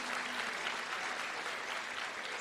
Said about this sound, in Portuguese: Vamos aplaudir estas igrejas